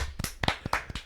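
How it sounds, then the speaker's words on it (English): A few people clapping in a room, with uneven, sparse hand claps close to the microphone and no talking. "we're clapping and you're in the room"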